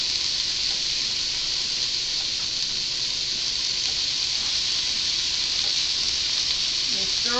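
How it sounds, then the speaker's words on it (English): Vegetables for minestrone soup sizzle steadily in a pan over lowered heat, a bright continuous frying hiss with faint scrapes of stirring, close and loud, with a voice briefly under it. "I'm stirring with one hand, holding the camera with the other"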